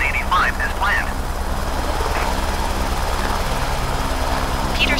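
An H125 helicopter in flight near St. Petersburg, Russia, a steady droning engine and rotor roar heard from inside the cabin, continuous and unbroken, with brief radio voices chirping over it.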